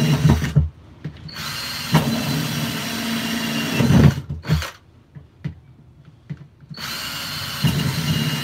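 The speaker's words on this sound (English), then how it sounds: "I'm not drilling any of them, I'm drilling in between them." A power drill bores holes in a homemade cuttlefish trap of solid quarter-inch-thick material, with several loud whining bursts separated by short pauses and clicks.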